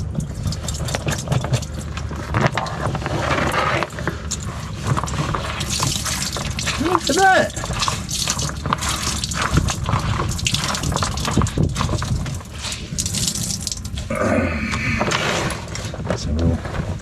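Dirty grey washing water is poured and gushes out of a small hand-operated washing setup aboard a sailboat, a steady splashing pour that runs under a voice talking throughout.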